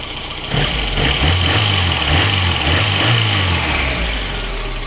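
VAZ 2108 engine running after piston group replacement and cylinder head overhaul, a loud, close idle with a steady low rumble and a brief rise and fall in revs, no voices.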